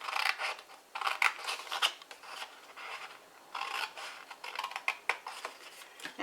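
Scissors snip through card for a greeting-card project, a series of close, crisp cuts in short bursts with brief pauses between strokes.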